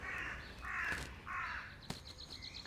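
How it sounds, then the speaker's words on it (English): Several harsh crow caws ring out in a row, fairly close in a garden, followed by a sharp knock and a quick series of faint chirps in a quiet outdoor setting. "Got some crows in the garden."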